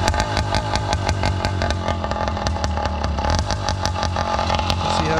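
A Zeta 80 Firestorm dirt bike, an mz65 clone with an OZ reed valve, windowed piston and 40-tooth sprocket, runs its two-stroke engine loud and near, holding a steady, rattly idle throughout.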